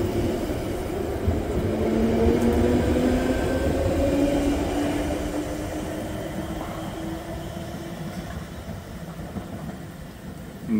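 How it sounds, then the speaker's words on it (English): A London Underground Piccadilly line train rumbles nearby at a wet Oakwood station, its motor whine rising and sliding in pitch as it pulls away, loud and steady before slowly fading. "And that's the train that I just got off."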